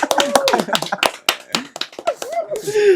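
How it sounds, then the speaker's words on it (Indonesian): Audience clapping at an informal talk with a costume maker, a few sharp scattered claps cutting through lively, close conversation and laughter rather than building into full applause. "Tepuk tangan sih bolo."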